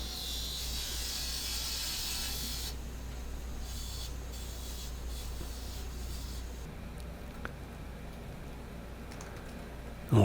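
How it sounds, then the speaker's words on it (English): Steady abrasive hiss of sandpaper against a wood-turned whiskey smoker spinning on a lathe, close and continuous, with a constant low motor hum beneath and a slight change in texture partway through. "Get this cleaned up here, and then get that all sanded."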